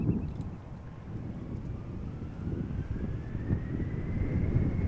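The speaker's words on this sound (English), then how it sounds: "the wind is starting to subside a little bit over here" Wind buffets the open air at Amsterdam Schiphol airport, a steady low rumbling gust that swells and eases, with a faint rising jet engine whine in the distance and no talking.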